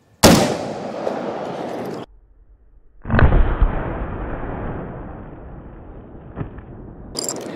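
Two loud rifle shots from a PSA H&R Retro M16A1 crack close by outdoors, each followed by a long, rolling echo across open ground, with a sharper third report cut off at the end.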